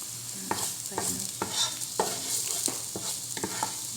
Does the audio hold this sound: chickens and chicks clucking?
no